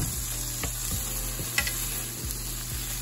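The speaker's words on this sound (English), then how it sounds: "Yeah, can I stir it?" Bacon and wiener chunks with tomatoes sizzle in a pot while being stirred, a constant frying hiss punctuated by regular rhythmic scrapes of the spoon, close and steady with no talking.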